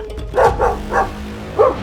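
A cartoon dog barks four or five times in short yapping bursts, moderately loud, with no talking over it.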